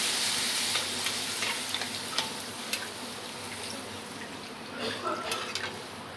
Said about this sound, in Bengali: মশলাটাকে একটু নাড়াচাড়া করে নিয়ে এর মধ্যে দিয়ে দিচ্ছি জল